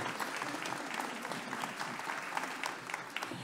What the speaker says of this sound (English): We're going to give him a round of applause.